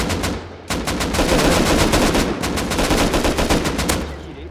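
Rapid gunfire in the survival game Rust, dense bursts of automatic shots cracking in quick succession, loud and close, with a brief gap before the firing resumes; no talk.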